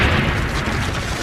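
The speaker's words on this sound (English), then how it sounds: "the grenade detonates." Hand grenade detonating: a dense, loud, rumbling burst with heavy low-end boom that fills the whole short moment without any voices.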